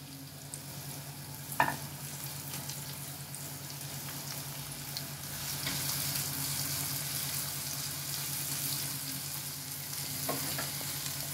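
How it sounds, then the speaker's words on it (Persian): Finely chopped onion frying in a little oil in a pan, a steady close hiss and sizzle with a couple of brief stirring knocks. "پیاز رو کمی تفت میریم"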